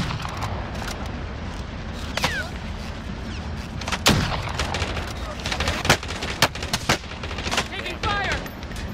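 Gunfire in a shooter video game: sharp, close shots and rapid bursts crack out against a steady game background, with occasional louder single reports.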